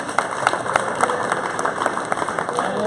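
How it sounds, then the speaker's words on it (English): Crowd at a varsity boys' basketball game against CHAP Homeschool claps in a steady patter of many hands, moderately loud and sustained, with some voices mixed underneath. "We have a round of applause for that."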